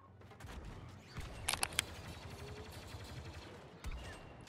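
Gunfire from a Star Wars video game, a busy wash of game noise with a cluster of sharp shot bursts near the middle and another hit later, no one speaking over it.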